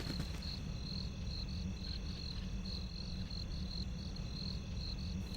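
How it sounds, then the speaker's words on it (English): Crickets chirping at night in the Baldur's Gate video game as the city is entered, a steady pulsing insect chorus over a low ambient hum, with no voices. "We enter the city to the sound of crickets."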